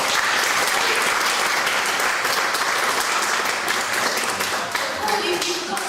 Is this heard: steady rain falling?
no